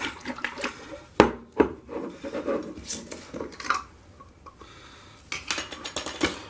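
A glass jar of rosemary herbal infusion handled and shaken up close, with scraping, rubbing and knocking sounds in irregular bursts, a couple of sharp clacks, and a short quiet pause in the middle, no talking.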